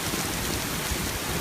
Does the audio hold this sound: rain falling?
yes